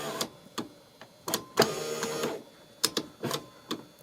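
A power window motor in a 1996 Honda Odyssey whirs in short bursts with sharp clicks between them, close up and fairly quiet, with the window not moving.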